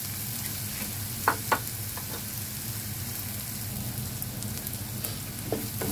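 Fermented black bean seasoning sizzles in a pan as it is stir-fried for nasi goreng, a steady close frying hiss broken by a few sharp scrapes of a spatula.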